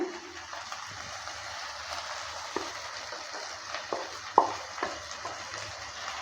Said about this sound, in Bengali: পালকের পেস্টটা দেওয়ার পর ভালো করে নেড়ে চেড়ে নিচ্ছি